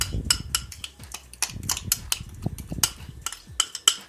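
Marinade mixture is stirred into pieces of meat, giving close, irregular clicks and soft wet scrapes of a utensil against the bowl in an uneven rhythm.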